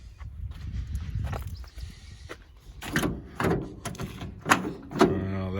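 Someone struggles with the stuck door of an old Chevrolet S10 pickup truck, producing a series of clunks, metallic rattles and latch knocks close by, with brief low voices between the tugs.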